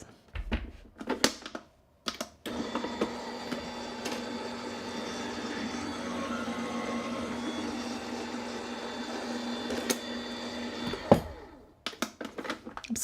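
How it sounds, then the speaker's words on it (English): An Anna Griffin Empress Mini die cutting machine runs paper through a die, giving a steady mechanical whir and rumble for about nine seconds, bracketed by brief clicks and handling knocks. "I'm going to bring in my Anna Griffin Empress Mini to die cut this"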